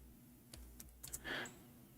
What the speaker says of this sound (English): We are typing in English letters.